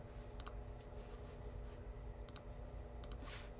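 A few sparse computer keyboard keystrokes, typed in a short burst and then two more isolated clicks, sound close over a steady low electrical hum.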